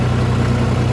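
A John Deere 5055E turbo tractor engine runs steadily at idle, a close, continuous low-pitched rumble with no voices over it.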